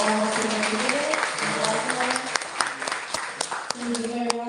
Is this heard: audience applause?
yes